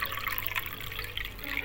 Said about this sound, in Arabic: نملى الطاجن ميه.